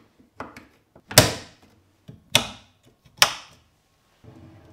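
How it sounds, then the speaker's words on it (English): Tip-on push-to-open drawer slides on handleless wardrobe drawers, giving a few soft clicks followed by three loud close thunks with sliding rumble, spaced about a second apart, and a faint shuffle at the end. "These are Tip-on drawer slides for handleless drawers, which means that they will open and close with a click."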